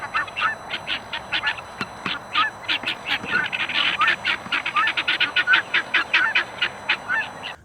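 Guinea fowl kept with backyard chickens call loudly and nearby in a rapid string of harsh, honking cries that repeat rhythmically for several seconds.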